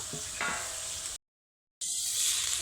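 Flattened rice (poha) fries and sizzles in a pan over a medium-low flame, with a few stirring scrapes, then a short cut to silence before the soft, steady frying resumes.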